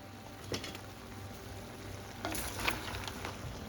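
Mussels in a wine and garlic sauce bubbling and sizzling in a wrought iron pan over a high flame, a steady close crackle with occasional louder pops and spits.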